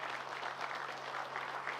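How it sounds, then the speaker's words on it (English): Steady audience applause from participants and attendees at a Knowledge Day keynote event, a dense even wash of many hands clapping throughout, moderately loud and continuous with no talking. "let's give our participants a round of applause"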